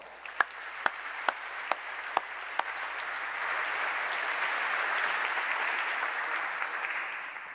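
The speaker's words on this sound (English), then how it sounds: "give yourselves a big round of applause" A few single, evenly spaced claps ring out, then a crowd at a university school of public health orientation breaks into loud, sustained applause that carries on to the end.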